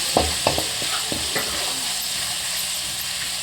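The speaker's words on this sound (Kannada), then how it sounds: "ಈರುಳ್ಳಿ ಚೆನ್ನಾಗಿ ಫ್ರೈ ಮಾಡ್ಕೋಬೇಕು." Onions frying in a pan with a steady close sizzle, punctuated early on by a few sharp scrapes and knocks of a spatula stirring, then settling into continuous hiss.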